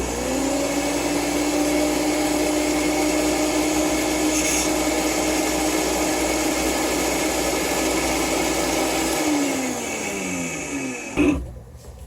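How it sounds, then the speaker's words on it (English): Electric grinder whirring steadily as it grinds vanilla salt, a loud continuous motor drone for about nine seconds that winds down, followed by a brief clunk. "The salt's actually working better in the grinder."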